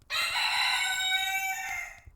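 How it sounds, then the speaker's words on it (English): A single rooster crows loudly and close by, one long drawn-out cock-a-doodle-doo of about two seconds with no other sounds. "It starts with a rooster."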